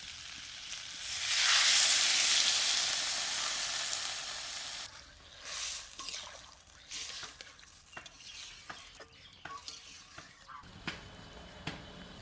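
Water poured into a hot pan of cooked-down tomatoes, bursting into a loud hissing sizzle that fades into softer bubbling and stirring clinks.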